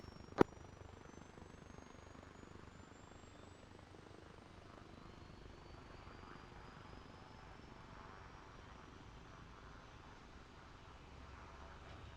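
A helicopter engine spools up in the Arma Reforger video game, a faint, steady whine with a rising tone under a sharp click near the start.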